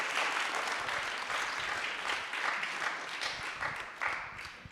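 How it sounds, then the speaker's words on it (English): An audience at a personal AI agents meetup in NYC gives a round of applause, dense steady clapping from many hands that holds at an even level throughout with slight surges, no talk over it. "Let's give them another round of applause."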